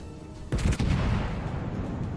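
Battleship Nagato's main guns firing in World of Warships: a heavy close boom followed quickly by a second blast, then a long rumbling roar that slowly fades, with no talking.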